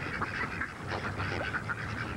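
Hungry seagulls call repeatedly at a feeding spot in December, a cluster of harsh squawks and honks over steady outdoor noise, fairly close, with no talking.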